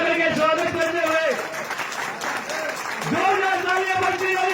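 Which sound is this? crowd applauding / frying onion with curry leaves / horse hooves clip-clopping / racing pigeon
crowd applauding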